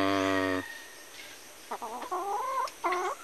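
A captured red junglefowl gives a short harmonic call, then after a pause a series of clucks and rising squawks, fairly faint and close, with no voices.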